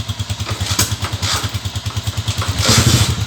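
A small motorcycle engine runs at a steady, pulsing idle close by, with a quick rev that swells louder near the end; no one speaks over it.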